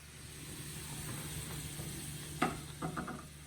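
Chicken piccata sauce simmering at a boil in a pan, giving a steady low hiss and bubbling with a few sharper stirring clatters near the end, fairly quiet and with no talk.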